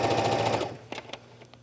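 A sewing machine top-stitches yoga pants fabric with orange thread, running in a fast, dense mechanical chatter, then stopping and leaving a few scattered clicks and knocks.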